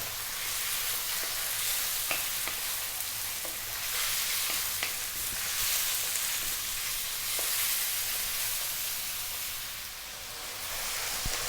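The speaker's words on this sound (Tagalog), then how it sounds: "Magigisayin ko lang siya ng mga 2 minutes." Chicken breast sautéing in a pan for a Filipino chicken sotanghon guisado, giving a steady, fairly loud frying sizzle throughout with a few faint clicks of stirring.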